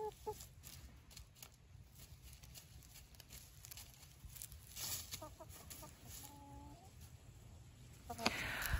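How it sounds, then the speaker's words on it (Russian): Free-roaming village chickens of an unnamed breed with feathered legs, in rural Lithuania, cluck softly and intermittently at moderate distance over steady outdoor background noise, with brief rustling sounds. "Курочки не боятся людей."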